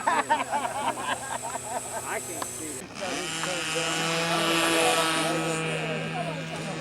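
Voices talk briefly, then a steady high-pitched engine whine of a small model helicopter takes over, droning on continuously.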